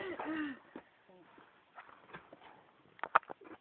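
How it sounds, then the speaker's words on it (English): Donkey hooves clip-clopping in a few uneven knocks, with a louder cluster of hits near the end amid faint background noise and a brief voice at the start. "it's a donkey"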